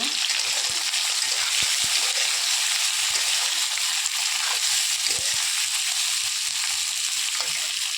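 Food frying in a pan while onions are cooked, a steady bright hiss of sizzling oil with faint stirring clicks underneath, close and continuous throughout.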